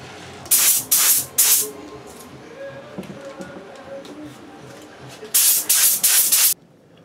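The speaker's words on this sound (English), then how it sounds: "The initial base coat is applied with low pressure very lightly. Then I follow that up with an aggressive wet coat." A spray gun lays a wet coat of automotive paint onto jetpack prop parts, giving two close sets of three sharp, loud hissing bursts separated by a quiet gap.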